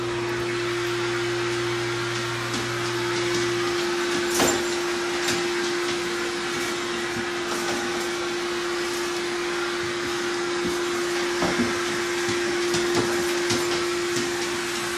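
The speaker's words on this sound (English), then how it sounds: "This is just a vacuum." A household vacuum cleaner runs steadily at close range, its constant motor whine holding a strong even tone throughout, with occasional knocks and bumps as it moves across the floor near a frightened dog.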